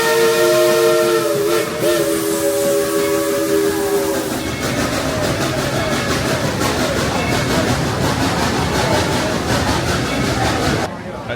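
A steam train at Dollywood sounds a long, loud multi-tone whistle close by, then chugs and rumbles past with rhythmic clanking wheel noise until it cuts off abruptly.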